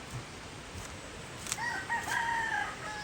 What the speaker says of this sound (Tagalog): May mga manok.